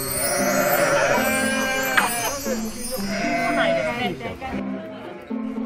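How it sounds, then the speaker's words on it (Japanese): Sheep bleat repeatedly at Meeme farm in Forest Park Kounoyama, Nara, several wavering cries overlapping close by while a person talks over them. "ものすごく羊が鳴いてますけど、めえめえ牧場の中です。"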